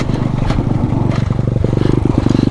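A KTM dirt bike on a trail, its engine droning loud and close with a rapid rhythmic pulse that quickens toward the end, and rattling clatter over the top.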